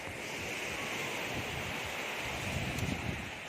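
Ocean waves wash onto a rocky shore on a windy, overcast day, a steady broad roar of surf with rising swells and wind buffeting the microphone, no voices.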